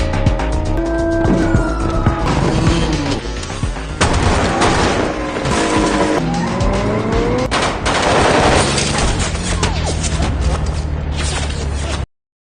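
Automatic gunfire rattles loudly and steadily through a tense movie action scene, bursts of machine-gun fire mixed with engine and vehicle noise, running nearly unbroken from start to finish.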